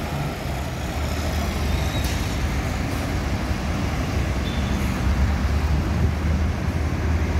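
A Sinar Jaya bus at a terminal gives a loud, steady, close engine rumble with constant road and traffic noise and a couple of faint hissing bursts.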